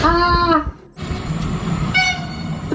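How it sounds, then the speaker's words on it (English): A European high-speed train sounds its horn and rushes past a station platform, with a loud sustained roar of wheels and air, and a second horn blast follows as it passes. "The train's coming."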